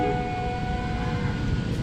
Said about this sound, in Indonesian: Dan lokomotif dinas kita kali ini adalah 203 36